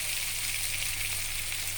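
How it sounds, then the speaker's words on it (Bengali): Potatoes frying in hot oil for a Bengali fish-and-potato mustard dish give a steady, loud, close sizzle that holds evenly throughout, with no talking. "এবার কিছুক্ষণের জন্য ভেজে দেবো"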